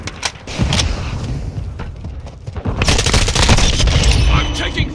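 Dense automatic and single-shot gunfire from Call of Duty Modern Warfare 2 multiplayer, with a desert setting, rattling in loud bursts for the whole stretch, with a brief lull midway and heavier overlapping fire after it, plus game voice callouts mixed in.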